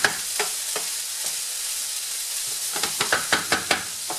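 Vegetables sweat in a salted pan for trout en papillote, giving a soft steady sizzle broken by irregular scraping clicks of stirring, denser toward the end, with no talk.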